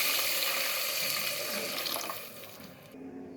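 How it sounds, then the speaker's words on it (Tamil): Water pours steadily in a close, splashing stream for a few seconds, then stops abruptly. "இப்போ நான் தண்ணி சேர்த்துக்கிறேன்."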